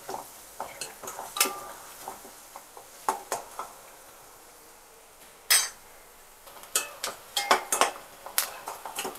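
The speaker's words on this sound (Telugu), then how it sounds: "కొంచెం కరివేపాకు, కొంచెం మిర్చి కొంచెం కరివేపాకు వేసుకుని ఒకసారి కలుపుకుందాం." A spatula scrapes and clanks in a pan while onions, curry leaves and chilli are stir-fried for chicken fry, with irregular metallic taps and scrapes over a faint sizzle.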